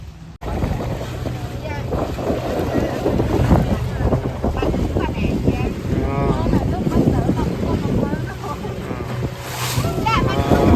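A small boat crossing choppy sea waves off the Mandeh coast, Pesisir Selatan, on a fishing trip, with steady engine drone, slapping water and heavy wind buffeting the microphone while people talk throughout.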